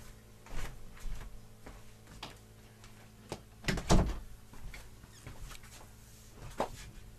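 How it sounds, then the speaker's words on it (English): An indoor door is handled and shut: a few scattered clicks and soft knocks, then a louder thump of the door closing near the middle, followed by faint rattles and one more knock, with no speech. "let me shut the door"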